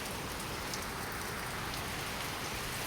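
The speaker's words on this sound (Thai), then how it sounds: "ฝนตกลินมาแล้วพี่น้อง" Steady rain falls over a vegetable plot, an even, dense hiss of drops on surfaces that continues without a break and with no voices.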